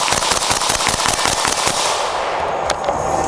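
Rapid, loud string of close gunshots as a Springfield Hellion rifle empties the rest of its magazine, sharp cracks in quick succession for about two seconds, then ringing decay.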